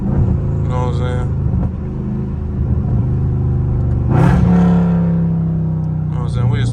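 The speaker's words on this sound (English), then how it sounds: "Cause you just hear the motor really stretch out" A loud Dodge Scat Pack with its exhaust heard from inside the car in traffic in sport mode. The engine drones and climbs through the gears, then surges into a sharp rev near the middle, with someone talking over the rumble.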